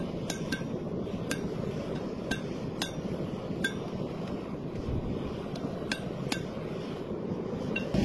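A hammer strikes metal on an anvil while forging a nail header. About a dozen crisp ringing blows come at an irregular pace over a steady, rumbling background.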